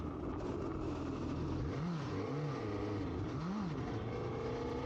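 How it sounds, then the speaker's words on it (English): A Suzuki GSX-S1000GX motorcycle engine rises and falls in pitch through several swoops as the rider brakes hard in a brake test, heard steadily under constant wind rush with no talk. "Alright, we're going to do a brake test."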